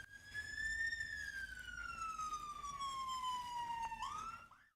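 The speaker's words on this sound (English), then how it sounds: "Sirens in your ear." Siren heard through headphones in a dementia virtual experience: a single clear wailing tone that rises, slowly falls over several seconds, then jumps up again before cutting off, fairly loud and alone.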